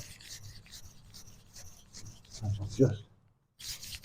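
A kitchen knife worked on a sharpening stone, with soft repeated rasping strokes building to a louder scrape before a brief pause and then more grinding, while a voice talks quietly.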